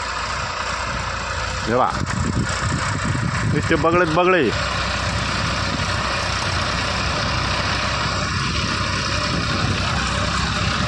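A tractor engine runs with a steady low rumble throughout while someone talks over it.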